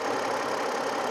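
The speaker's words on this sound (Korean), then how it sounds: "자 그러면 엔진 소리 한번 들려드릴게요 엔진 보세요" A 2011 Hyundai Grandeur engine idles with the hood open, a steady, even hum heard close up and alone, with no talk.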